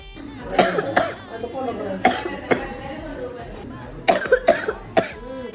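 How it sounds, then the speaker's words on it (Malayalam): A person coughs repeatedly in harsh bursts, several fits spread across the moment, close and loud, with some throat clearing between. "ചുമച്ച് പണ്ടാരടങ്ങി."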